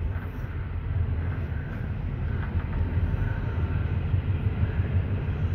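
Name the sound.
train interior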